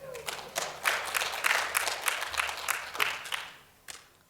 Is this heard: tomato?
no